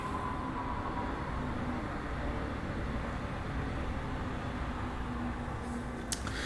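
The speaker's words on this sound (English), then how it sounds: "goddamn train" A train rumbles past in a steady, continuous wash of low noise that persists throughout, with a sharp brief click near the end.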